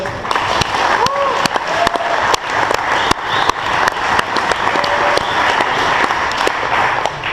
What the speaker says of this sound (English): You guys give a big round of applause for Jensen.